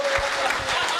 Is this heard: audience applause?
yes